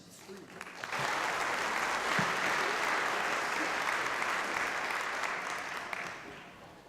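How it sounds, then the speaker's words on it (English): A convocation crowd gives a sustained round of applause for a university big band, the clapping swelling in after a brief moment of voice and holding steady before tapering slightly at the end. "Let's give them one more round of applause."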